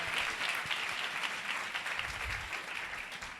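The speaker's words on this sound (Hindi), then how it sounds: "खुदा के लिए जोरदार तालियां बजाएं।" A church congregation gives loud applause during a Hindi-language sermon, a dense continuous clapping that holds steady for several seconds and eases slightly at the end.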